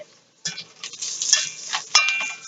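Garlic goes into a pan of translucent frying onions, setting off a sudden sizzle that swells and crackles unevenly, with a light utensil tap partway through.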